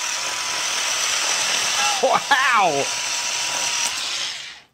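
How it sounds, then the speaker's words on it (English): Worx power cutting tool running with a steady, fairly loud whirring hiss that holds throughout before cutting off at the end, while a person briefly exclaims over it. "A professional power tool for gadget lovers."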